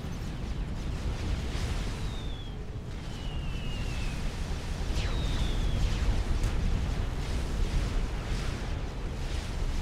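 Anti-aircraft fire striking bombers in Supreme Commander: Forged Alliance: a continuous roar of game battle noise with dense rumbling blasts and a few brief whistling streaks, steady and loud throughout.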